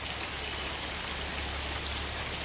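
Rain falls steadily near Lawachara forest, a dense, even hiss of drops that stays constant without pauses or voices.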